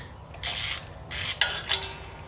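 Bolt on a Holley carburetor, sealed with nylon washer gaskets, worked loose with a ratchet wrench: three short bursts of mechanical clicking close by with brief pauses between, no talking.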